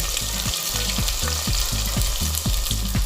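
Small and big onions sizzle in oil in a pan for an Indian chicken curry, a steady close-up fry broken by regular stirring scrapes about every half second, with no talking.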